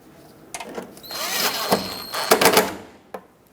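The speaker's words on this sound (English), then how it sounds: "Now put in the two screws at the bottom" A power drill drives the bottom screws into a replacement headlight on a 2000-2005 Ford Excursion, whirring in a few close, loud bursts over about three seconds with a short final blip.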